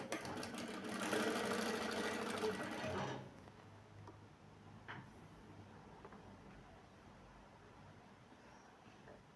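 A sewing machine stitches patchwork blocks in a steady, fairly close mechanical run for about three seconds, then stops, leaving quiet room tone with a faint click.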